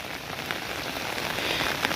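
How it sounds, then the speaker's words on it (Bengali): Heavy rain pouring down onto surfaces outdoors in a village, a dense, unbroken hiss and patter close by with no voices. "দেখেন, বৃষ্টি হচ্ছে, অনেক বৃষ্টি"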